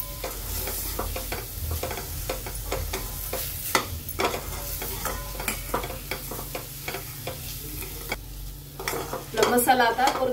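Garlic masala being sautéed in a pan for misal, a steady sizzle under frequent brisk stirring and scraping of a spoon against the pan, close by, with a louder burst of frying near the end.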